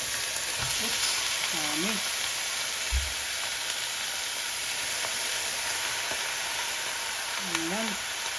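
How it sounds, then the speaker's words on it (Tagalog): Sliced pork sizzles loudly in a hot pan, a constant, even frying hiss while it is stirred, with a few light scrapes and short spoken remarks over it. "Ngayon naman, ihalo ko na itong mga hiniwang karne."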